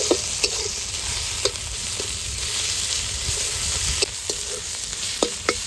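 Ginger and garlic paste sizzles in a little hot oil over already fried onions, a continuous crackling hiss broken by sharp clicks of stirring, close and alone.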